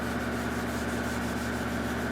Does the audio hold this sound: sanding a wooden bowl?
yes